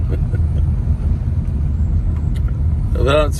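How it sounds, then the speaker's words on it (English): A car travels along a rural road near a zoo, heard from inside the cabin as a steady low road rumble and engine drone, with a brief rising tonal sound near the end. "We're riding along in a car."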